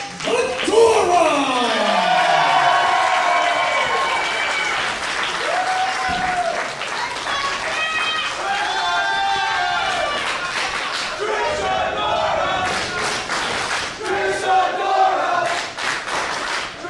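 A Worcester crowd at a women's wrestling show cheers, shouts and applauds loudly in a sustained roar, with bursts of clapping and chanting rising near the end, heavy with voices throughout.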